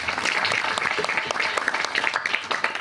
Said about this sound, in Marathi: टाळ्या वाजवा यांच्याकरता.